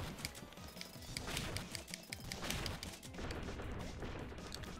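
Explosions and rapid blasts in the side-scrolling video game Iconoclasts, a dense, continuous barrage of bursts and crackles filling the whole stretch at steady loudness, with no talk over it.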